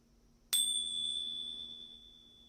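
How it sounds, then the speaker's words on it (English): Tingsha cymbals struck once, giving a bright, sharp metallic ring that hangs and slowly fades across the quiet room with no talking. "you have Tingshas,"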